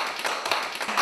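Light applause for a cook named Mrs. Chen at a birthday cooking gathering with stone-baked pancakes in Fuping County, heard as a brief patter of a few hands clapping close by.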